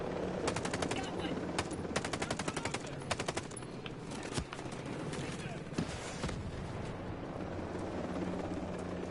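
Helicopter in the Ghost Recon Breakpoint video game, a steady rotor drone running beneath bursts of machine-gun fire and scattered gunshots throughout a busy combat scene.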